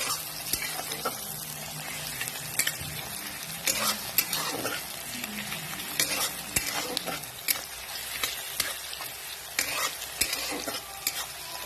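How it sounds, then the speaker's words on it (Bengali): Onions sizzle in hot oil on a gas stove while a utensil scrapes and stirs them in repeated sharp strokes, steady and close, no voices present. "পেঁয়াজটা ভাজা হচ্ছে।"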